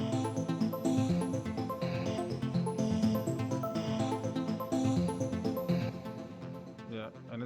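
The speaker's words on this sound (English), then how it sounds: "I added an arpeggiator, which I built out of as I said, the base of the strings." Trap beat carrying an arpeggiated melody built from string sounds, steady and dense with busy layered parts, loud and continuous with no talk over it.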